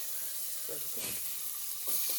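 Cumin tempering hisses in hot oil for a tadka over a wood-fired clay stove, a quiet, steady sizzle with a slight swell near the end, while people talk nearby.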